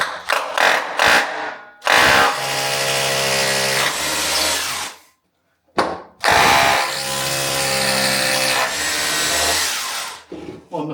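Power drill boring holes to fix a scrap-built storage cabinet to a wall, several loud close bursts of whining motor with short gaps between them, no talking.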